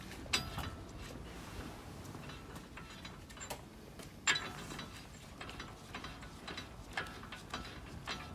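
A ratchet loosens a front hub nut on a Nissan e-NV200 in a quiet shop, sounding as bursts of quick clicking from the pawl with brief pauses and a sharper clack or two between strokes.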